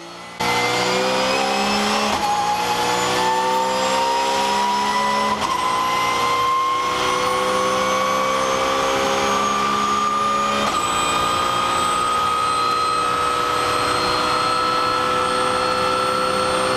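Race car in Forza Motorsport on the Le Mans circuit, a loud sustained engine note that climbs steadily in pitch, with brief dips and shifts marking gear changes, no talk.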